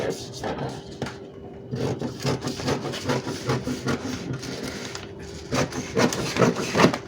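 A roller cutter rolls through fabric and paper while a dress pattern shape is cut out, giving close, soft crunching and rolling scrapes in short bursts, with handling noises between them.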